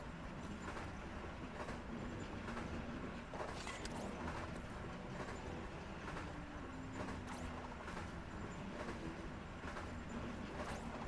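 A subway train in the Phineas and Ferb video game rumbles on, a continuous rolling roar with rhythmic clatter and brief metallic squeals, steady and fairly loud throughout.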